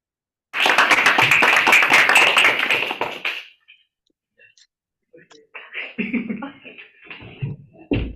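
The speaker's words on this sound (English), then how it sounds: "Let's give a round of applause for our general evaluator Toastmaster" An audience at a Toastmasters meeting gives a short, dense round of applause lasting about three seconds, then it fades into quiet and scattered talk.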